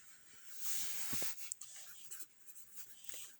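Marker or chalk scratching across a board during an anatomy lesson, a soft hissy scrawl in short strokes with a few taps, faint and close, with no speech over it.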